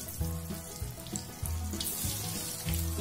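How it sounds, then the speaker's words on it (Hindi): Dahi kebabs deep-frying in hot oil over a medium flame, giving a steady hiss with a low bubbling rumble that swells in repeated pulses, close and fairly loud with no talk. "अब हम इसको मीडियम फ्लेम पर तलते हैं।"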